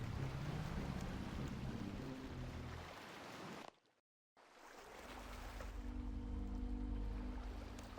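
Rowing a boat in RuneScape comes through as a steady rush of water and wind-like wash, briefly cut to silence midway before resuming, with no talk over it.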